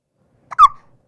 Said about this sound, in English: She's hiccupy.